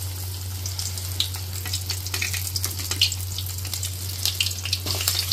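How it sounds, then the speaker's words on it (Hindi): Cheese corn nuggets frying in hot oil in a kadhai, a steady dense crackling sizzle with scattered sharper pops over a constant low hum, fairly close and continuous throughout. "कढ़ाई के अंदर डाल दिए हैं अपने, और जैसे ये फ्राई हो जाते हैं"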